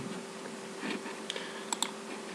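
Computer keyboard keys clicking a few times in a quiet room during CAD area-calculation work, sparse soft taps with two sharper presses near the end, close and fairly faint.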